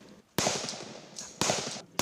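T91 rifles firing live rounds during a military shooting drill at the 75-meter line: three sharp, loud gunshots in uneven succession, each with a short ringing tail, between quieter stretches of ambient noise.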